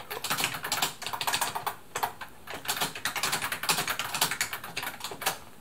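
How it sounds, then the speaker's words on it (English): Keys clatter in quick, uneven bursts on the keyboard of a modernized Brother LW-35 typewriter, close and clear, with short pauses between runs of typing and no voice. "So let's just open Nano and type something."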